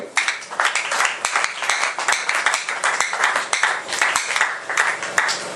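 A church congregation claps and applauds in praise during a worship service: dense, continuous clapping with a fluttering rhythm, loud and close, and no one speaking over it.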